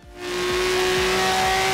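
A Ferrari Testa Rossa driven in the racing game Forza Horizon 2, its engine rising quickly to a loud, sustained high-pitched drone with a faint rhythmic thump repeating underneath, no voices.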